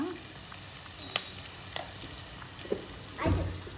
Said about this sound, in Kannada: ಸಾಲ್ಟ್ ಹಾಕಿದ್ರೆ ಈರುಳ್ಳಿ ಬೇಗ ಫ್ರೈ ಆಗ್ತದೆ ಅಲ್ವಾ ಅಕ್ಕ?